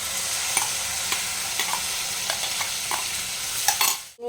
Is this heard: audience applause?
no